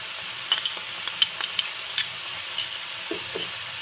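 Cucumber sabzi stirred over a high flame after soy sauce and green chili sauce go in, a steady sizzle broken by repeated spatula scrapes and clinks against the pan, close and fairly loud, with no voices.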